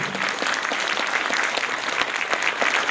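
Sustained applause from a festival audience at an opening ceremony, dense and steady clapping filling the space for a few seconds with no voices over it.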